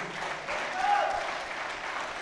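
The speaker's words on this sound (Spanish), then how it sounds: "Dele un fuerte aplauso al Señor por su preciosa sangre." A church congregation gives steady, moderately distant applause during an apostle's sermon, with dense clapping held for a couple of seconds and a faint tone briefly rising through it.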